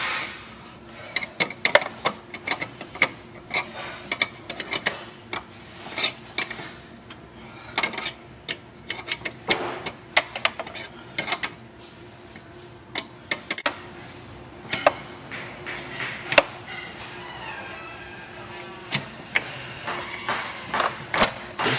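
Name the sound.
loosening master cylinder brake line flare nuts with wrench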